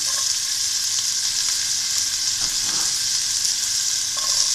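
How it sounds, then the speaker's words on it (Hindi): Chicken, onion, carrot and capsicum sauté in a hot pan with a loud, constant close sizzle and a brief stirring scrape midway, with no voices. "इसी तरह हमने वेजिटेबल्स भी ऐड कर देनी है और उनको सौटे कर लेना है"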